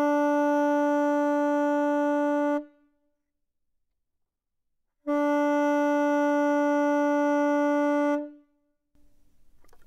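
A saxophone holds a steady note twice, and each note is cut off sharply with the tongue. The two notes are separated by silence.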